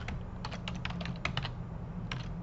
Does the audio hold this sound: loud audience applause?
no